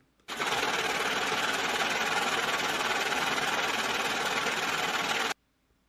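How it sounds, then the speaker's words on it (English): Money printer sound effect: a steady, loud mechanical whir and rapid clatter running continuously for about five seconds, starting and stopping abruptly, with no talk over it. "That deserves a money printer."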